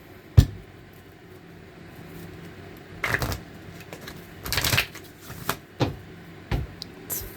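Deck of tarot cards being shuffled by hand, with scattered sharp riffles and clacks, louder bursts around the middle, and quiet gaps between them.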